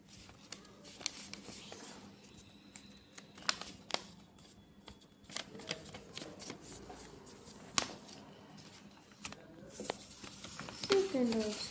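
Square origami paper is creased and folded by hand into a triangle for a triceratops model, giving crisp crinkles and sharp rustling taps scattered over several seconds, with a person speaking throughout.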